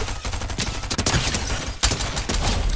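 Rapid bursts of gunfire from Fortnite fill the clip, loud and close, with rattling automatic shots and a sharp louder crack near the end.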